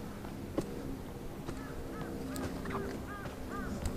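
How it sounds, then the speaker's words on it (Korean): Crows caw in a short run of repeated hoarse calls from a distance over steady outdoor background noise at an abandoned seaside campsite on Yeongheungdo, faint but distinct, with no talking. "까마귀가 울고 있고요"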